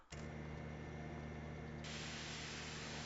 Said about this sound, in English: Go ahead and spray off the water the old-fashioned way.